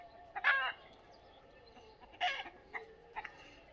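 Free-range desi roosters and hens cluck in short, close bursts, three or four separate outbursts over a quiet rural background, with no talk.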